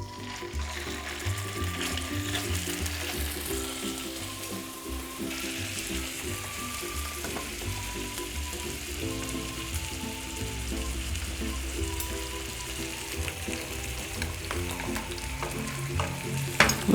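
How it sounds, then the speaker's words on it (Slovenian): Pork fillet sears in hot fat in a pan, a loud continuous sizzle and crackle lasting throughout, close up, with occasional clatter of utensils and no talking. "Med tem časom bom zdaj opekel svinjski file na vroči maščobi, zato da ga oskorim"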